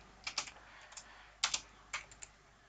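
Keys clatter on a computer keyboard while a code comment is typed, coming as quiet short bursts of a few clicks each with brief pauses between them, close by and alone.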